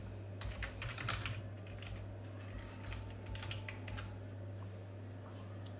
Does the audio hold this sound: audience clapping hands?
no